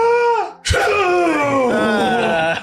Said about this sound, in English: you could sneeze?